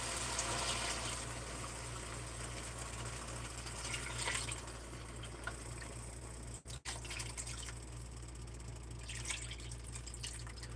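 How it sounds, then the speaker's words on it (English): Lamb broth pours steadily into a cooking pot for chicken pulao, a continuous watery gush and trickle over a low hum, briefly cut out near the middle, with no talking. "now I'm gonna go ahead and add this lamb broth that I have."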